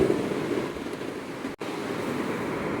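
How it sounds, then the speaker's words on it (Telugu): Steady broadband rushing noise, like wind blowing across a microphone, continuous and fairly loud, with a brief dropout midway. "సో చక్కగా గాలి అనేది వేస్తూ ఉంది"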